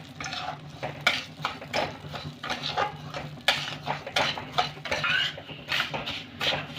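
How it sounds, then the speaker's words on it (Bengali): Raw rice stirred in ghee in a pan over medium heat, a close run of dry scraping and clinking strokes from the spoon against the metal with a faint sizzle beneath, and nobody talking. "গ্যাসের আঁচটাকে মাঝারি মিডিয়ামে রেখে চালটাকে কিন্তু অনবরত এইভাবে নাড়াতে থাকবো"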